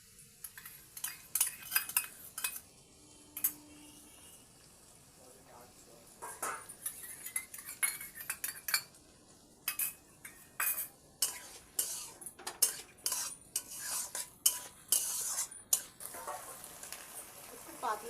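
A spoon clinks and scrapes around a pan of paneer chilli as three mixed sauces are poured in and stirred, busy irregular metallic clatter close by with occasional soft voice.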